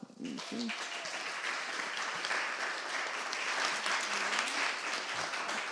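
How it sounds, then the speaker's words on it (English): Audience at a Poetry Out Loud 2024 recitation event claps steadily for a student performer, a sustained moderate round of applause with brief voices at the start. "Okay, so Gilberto, a round of applause."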